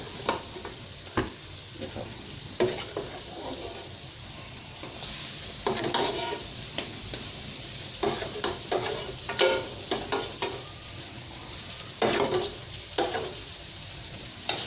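Braised pork being stir-fried in a pan for Thai-style pork and egg palo, with spatula scrapes and stirring clatter in irregular bursts over a low sizzle, close and moderately loud, and no talk.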